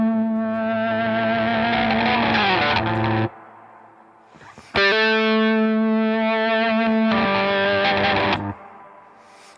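Guitar played through a BOSS GT-1000 feedbacker effect in OSC mode, long sustained distorted notes swelling with steady tonal feedback, two loud held passages separated by a quieter gap, no voices.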